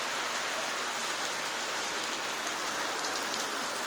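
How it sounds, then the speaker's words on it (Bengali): Heavy rain pours down outside a balcony, a thick, unbroken roar of water on surfaces that is loud and constant from start to finish. "ঝমঝম করে বৃষ্টি নেমেছে পুরো,"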